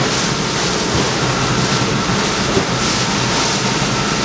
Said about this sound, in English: We're getting the odd wave on over the boat.